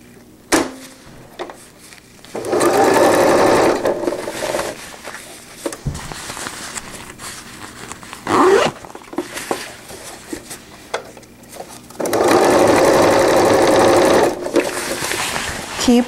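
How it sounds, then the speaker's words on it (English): A sewing machine runs in two sustained loud bursts while topstitching a zippered wetbag, with quieter handling of fabric and small clicks between the runs. "now we need to do the top stitch on this side"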